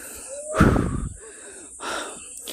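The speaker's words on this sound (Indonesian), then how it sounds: "Ngos-ngosan" Heavy, ragged panting after a mountain climb on a trail in Java: a loud gasping inhale followed by quieter rasping breaths, close to the mic with no speech.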